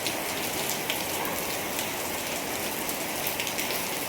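Steady rain pours down across the whole stretch, a dense, even hiss of drops hitting the ground in Uttarakhand farm country, loud and continuous with no voices.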